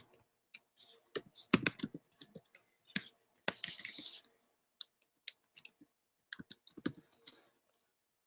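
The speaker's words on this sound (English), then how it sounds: "I'll type it in here" Sparse bursts of typing on a computer keyboard, close, quiet clicks in irregular clusters separated by silence.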